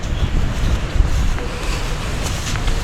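Cold wind blowing steadily, a broad rushing roar buffeting the microphone, with no voices.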